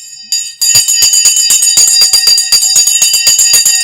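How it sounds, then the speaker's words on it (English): A bell rings out in rapid, loud repeated strikes, a fast metallic ringing that runs continuously for several seconds after a brief quiet start, with no talk over it. "The bell's gone right on the bell there."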